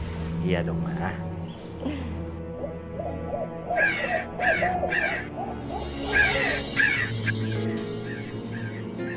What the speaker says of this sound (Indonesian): Ada suara burung gagak lagi